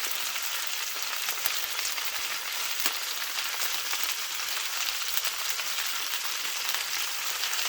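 Potatoes and cabbage fry steadily in a pan, a dense, even sizzle with soft crackles that holds at the same level throughout, close and alone without talk.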